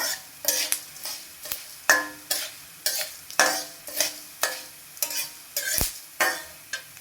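Coriander seeds dry-roasting in a pan are stirred in a steady rhythm of about a dozen dry, rattling scrapes, close and clear, with no talking.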